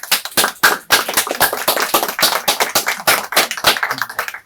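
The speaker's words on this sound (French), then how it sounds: "On applaudit après la synthèse." An audience applauds after the closing summary of a talk on asylum law, with dense irregular hand claps sustained evenly throughout, fairly close and loud, no voices over it.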